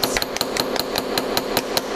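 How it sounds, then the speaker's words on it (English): A hammer strikes metal in a studio in a steady, rapid run of about ten ringing blows, close and loud, with no talk. "people tend to be kind of afraid to hit the metal. Don't be afraid to hit the metal."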